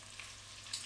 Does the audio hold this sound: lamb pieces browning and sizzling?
yes